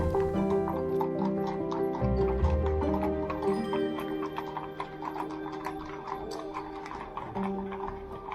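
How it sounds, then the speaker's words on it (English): Horse hooves clip-clop in a quick, steady rhythm on a narrow Vienna street as horse-drawn carriages pass, the clatter echoing clearly over a droning hum and faint background chatter. "the sound of horse hooves echoed through the narrow street"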